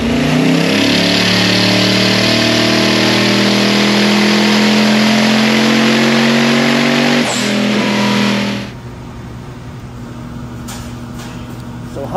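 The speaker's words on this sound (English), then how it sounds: "So Hunter's out here just getting the dyno kind of dialed into where we're at" A twin-turbo Hemi engine roars loud and sustained on a dyno, its pitch climbing steadily through a pull before cutting off abruptly to a quieter idle, with voices faintly under it.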